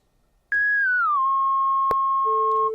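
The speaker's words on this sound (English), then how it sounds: "We'll put the filter into self-oscillation." A pure, whistle-like tone from a 1974 Minimoog's self-oscillating filter starts abruptly, glides down in pitch, holds steady, then a lower tone joins near the end.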